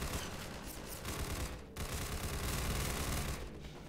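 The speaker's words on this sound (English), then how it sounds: "That's the sound of gunfire that I don't have to worry about." Sustained gunfire in Half-Life 2, a dense rattling fusillade of rapid shots that continues almost without pause for several seconds, with one brief break, loud and with no voices over it.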